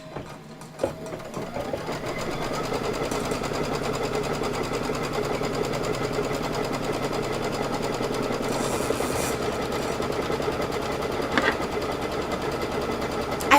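A sewing machine stitching pillow pieces runs in one long, continuous, close rattling hum for over ten seconds, with steady rhythmic needle clatter and no talking.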